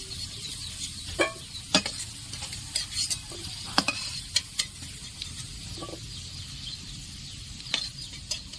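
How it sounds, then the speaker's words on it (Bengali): Carrots frying in oil for shukto, a steady low sizzle broken by frequent sharp scraping clicks of a spatula stirring against the pan, close and moderately loud. "গাজরগুলো বেশ হালকা করে লাল লাল ভাবে ভাজা হয়ে গেছে।"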